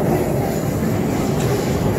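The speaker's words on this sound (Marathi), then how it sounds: "बघा किती फास्ट जाते ट्रेन जमिनीच्या खालून" Pune Metro train racing through an underground tunnel, a loud, steady rumbling roar of wheels and motion filling the space without a break.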